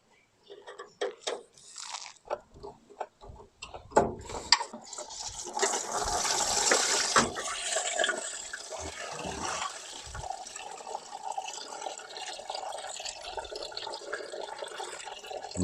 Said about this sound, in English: set this drain pan up underneath the bottom hose, take it off, let all the coolant drain